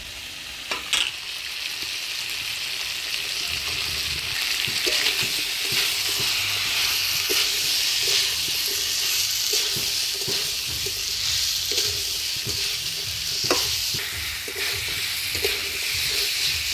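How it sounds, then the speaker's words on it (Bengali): Potato, cauliflower and peas are sautéed with spices for a Bengali vegetarian curry. A constant close sizzle runs throughout, broken by regular spatula scrapes and knocks against the pan. "আলু ফুলকপি মটরশুঁটি দিয়ে মশলার সাথে ভালো করে কষে নিলাম।"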